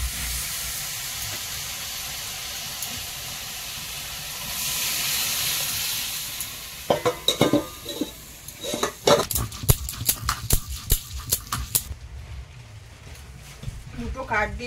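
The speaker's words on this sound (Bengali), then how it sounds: "এবারে ডালটা দিয়ে দেবো।" Dal with whole peas is poured into a hot pot, giving a broad hissing whoosh, then sizzling and steam under a voice, followed by sharp clinks and scrapes of a utensil against the pot.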